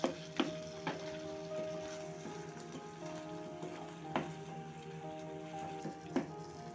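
Tomatoes cooking in a pan are mashed as they fry, with a faint steady sizzle broken by scattered soft taps and scrapes of a utensil against the pan, and no voices.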